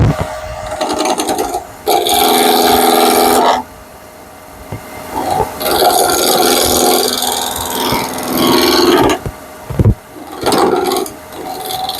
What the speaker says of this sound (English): So this is using a bull gouge.